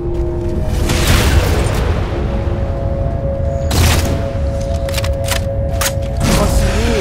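Railgun shots in the Halo 4 campaign, heard as heavy booming blasts over a dense game soundtrack, with sharp bursts near the 4-second mark and again later, each followed by rumbling decay.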